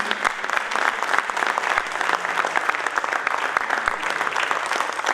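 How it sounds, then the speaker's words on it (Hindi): Loud, sustained applause from an audience at a comedy theatre play, dense steady clapping that fills the room throughout with no speech over it. "कांची मैम, जोरदार तालियां के लिए भी।"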